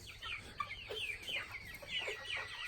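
Chickens clucking steadily in a pen, several birds overlapping in a continuous murmur of soft, close clucks and chirps with no talking.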